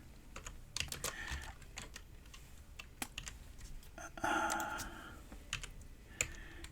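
Rapid typing on a computer keyboard during coding, a close, steady stream of light key clicks with irregular rhythm and a few heavier keystrokes, with no talk.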